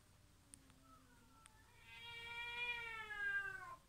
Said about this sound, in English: Cat opera, you guys.